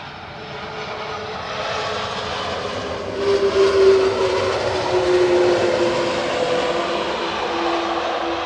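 An airliner with CF6 engines lands at Manchester Airport and applies reverse thrust, a loud sustained jet roar that swells near the middle and then holds steady at a distance.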